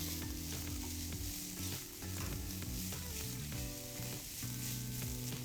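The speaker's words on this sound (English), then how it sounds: "What I'm going to do is add in our onions. Give that a nice stir." Chopped onions sizzle in a pan of hot oil as they are stirred, a continuous frying hiss running beneath prominent background music.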